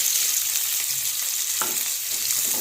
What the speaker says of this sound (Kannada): ಸಣ್ಣದಾಗಿ ಕಟ್ ಮಾಡಿರೋ ಉಳ್ಳಾಗಡ್ಡೆ ಹಾಕ್ತೀನಿ ರೀ